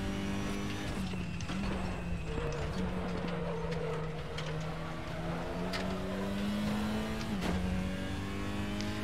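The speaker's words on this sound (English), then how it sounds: "it's meant to be like all the noise of the pit lane and the workshop" Ambient pit lane and workshop noise in the RaceRoom racing game at Imola, a steady bed of engine drones, mechanical clatter and faint background activity throughout.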